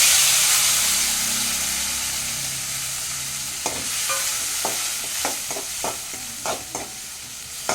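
Chopped tomatoes fry with dried chili and dal in a pan for tomato rice, a loud hissing sizzle that settles down, then a series of sharp scraping stirs and clanks against the pan.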